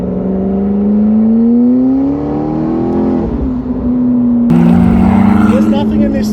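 Supercar engine, Audi R8 or McLaren 650S, revving in track mode, loud close rising engine tone that climbs then settles into a steady drone, followed by louder harsher noise near the end.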